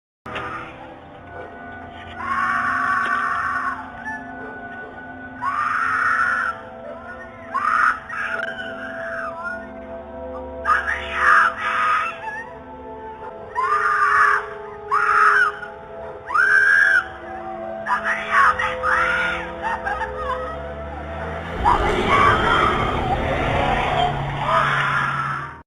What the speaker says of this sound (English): The woman was screaming from inside the car.